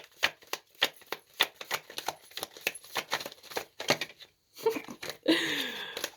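A deck of tarot cards is shuffled up close in quick, papery riffles and snaps, ending in a longer fluttering riffle, with no talking.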